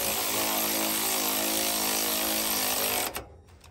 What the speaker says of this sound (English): you come and tighten that top bolt